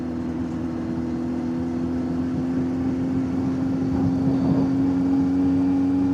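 A Kawasaki Z900 motorcycle ridden slowly, its engine a steady low drone with strong harmonic hum throughout, rising slightly toward the end, with no talk.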